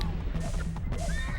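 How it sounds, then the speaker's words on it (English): Rapidash, a fiery horse Pokémon in the video game Pokémon Snap, gives a shrill, wavering neigh amid hoof clatter and game background noise, fairly loud and close, with a couple of rising whinny calls. "we can get a nice little neighing Rapidash there"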